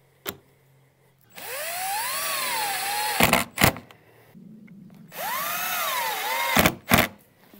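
A small window on a kids' playhouse is slid open and shut twice, each pass a whirring, squealing glide lasting about two seconds, ending in sharp knocks and thuds as the sash hits its stops.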